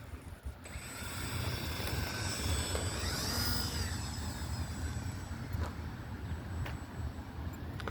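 E-flite UMX Turbo Timber Evolution RC plane flying in the rain, a steady whirring electric motor drone with a brief rising pass in the middle, heard alone over a constant wash of background noise.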